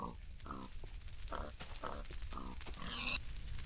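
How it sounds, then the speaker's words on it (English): Pig in the Minecraft video game gives a series of short, evenly spaced grunts, about six in quick succession, close and clear over a steady background hum. "Poor pig, never had a chance."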